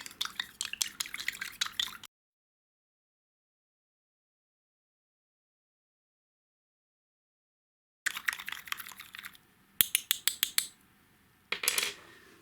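Water trickles and drips into a salt solution for cleaning coins, a couple of seconds of pouring and dripping, then a long silent gap before more bursts of splashing and dripping near the end.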